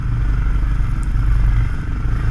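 An ATV engine idles through a throaty stainless steel exhaust at a poker run, a steady close, low rumble with no talk.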